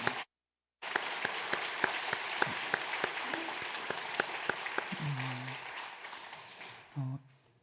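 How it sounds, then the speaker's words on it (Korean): A church congregation claps in thanks after a pastor's worship song, starting after a brief silence and continuing as a steady, moderately loud patter of hands that tapers off, with a voice briefly speaking over it. "목사님께 감사의 박수 다시 한번 드리겠습니다."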